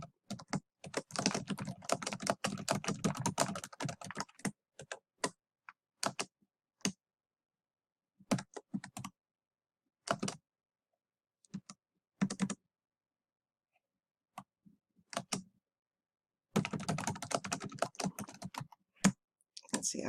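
Keyboard typing of a short Facebook Messenger note on a computer, in bursts of rapid clicking keystrokes separated by pauses, fairly close and clear with no talking.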